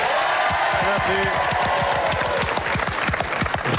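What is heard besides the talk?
studio audience applause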